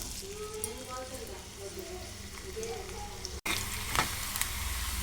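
Tempering spices like mustard seeds and cumin fry in hot oil in a kadai for an ivy gourd curry; a steady close sizzle runs throughout, with a voice talking over it during the first part.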